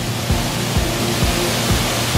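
A steady, loud roar of rushing water, like a nearby waterfall, with a faint regular low thump pulsing underneath.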